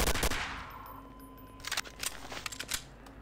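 Rapid bursts of video game gunfire at a train station, quiet crackling volleys that come in short clusters after a fading opening hit, with no talking.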